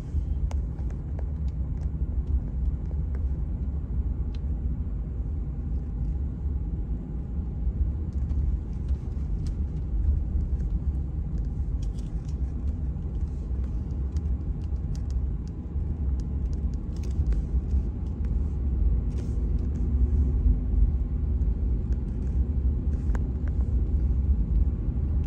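A car drives down a snowy road in Fulton, Maryland, heard from inside as a constant low engine and tire rumble, steady and unbroken throughout.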